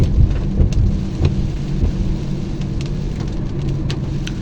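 Steady heavy rain falls during monsoon season in Bakerganj, Barisal, with a continuous hiss and patter under a deep, rolling rumble of thunder, and no voices.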